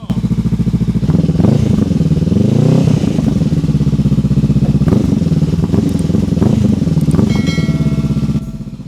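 A 2024 Honda CB500F with a Leo Vince slip-on exhaust runs close by, rumbling then revving hard several times with a deep, throaty exhaust bark before settling and cutting off.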